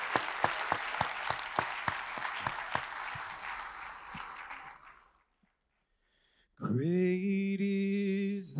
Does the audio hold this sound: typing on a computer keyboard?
no